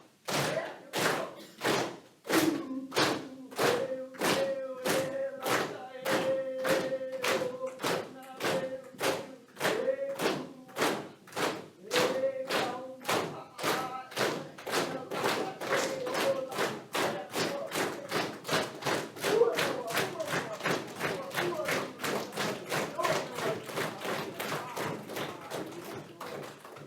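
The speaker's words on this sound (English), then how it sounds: "The way you invoke Lata is this kind of clapping. Stomp your feet if you want, make it loud." An audience at a panel discussion with traditional Pacific navigators claps and stomps in a steady, loud rhythm that speeds up and grows denser over time, with faint voices early on.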